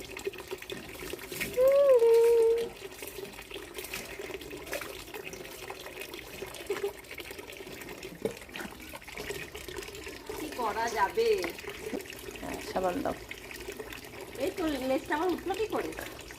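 Water is poured and splashed over a pet during an outdoor bath, a steady trickling and sloshing with a brief whistle-like tone early on, while people talk over it throughout.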